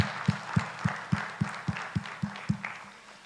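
An audience at an industry launch event in Zambia claps in a steady, evenly paced rhythm, each clap distinct with a dull thud, moderately close and gradually tapering off.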